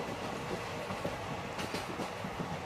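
A train carriage on a journey rumbles with a steady, dense roar, faint rhythmic clacks of the wheels running underneath, heard from inside the coach at low volume.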